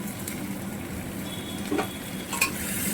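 Potatoes, tomato and chillies fry together in a pan for ghugni. A soft, steady sizzle carries a few stirring scrapes and light clinks, and there is no talk.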